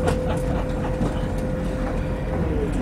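Inside an LNER passenger train bound for Aberdeen, a steady low rumble of running wheels fills the carriage, with faint clicks over it and a thin high tone drifting through, continuous and close.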